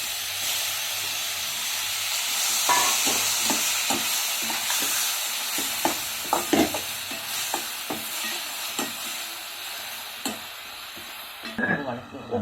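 Onions and tomatoes sautéing in a pan for green peas masala sundal give a steady hissing sizzle with repeated spatula scrapes and clicks throughout, close and moderately loud, with no talk.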